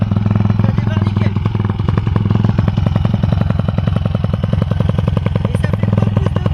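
A YCF Sunday Flat Track 190 Daytona motorcycle engine runs steadily up close, a loud, even, rapid thumping idle that continues throughout with no break in its rhythm.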